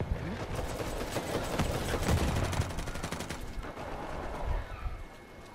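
Video game gunfire during a ranked match, with scattered overlapping shots and bursts of automatic fire, moderately distant, continuing through the stretch with no talk.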